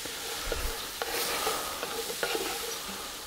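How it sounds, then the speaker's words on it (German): Mushrooms and peppers sautéing in a cast-iron Dutch oven, a steady close sizzle with occasional stirring scrapes and knocks. "Und die werden wir jetzt auch erstmal richtig schön eine Weile anbraten."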